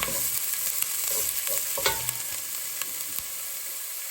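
Chicken pieces with ginger sizzle and fry in a hot pan, with steady crackling and a few scraping stirs of a spatula, close and fairly loud throughout, with no talking.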